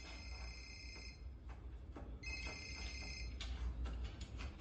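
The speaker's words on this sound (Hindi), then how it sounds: "फोन कर रहा है" Telephone ringing, two clear electronic ring bursts separated by a pause, fairly faint over a low background hum and scattered knocks.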